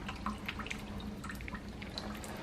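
Water leaks indoors near a window during a hurricane, a soft continuous trickle with scattered drips and splashes, faint and close.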